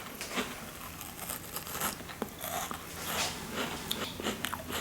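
Crunchy praline feuillantine is bitten and chewed close up, giving a dense run of crackling, crisp snaps and crunches over several seconds with no talk.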